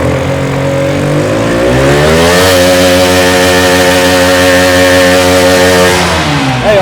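A Yamaha MT-15 motorcycle with a leaking silencer revs loudly and steadily up close, its engine note climbing, holding high, then dropping back near the end, with no voices.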